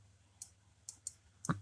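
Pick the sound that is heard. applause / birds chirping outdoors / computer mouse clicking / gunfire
computer mouse clicking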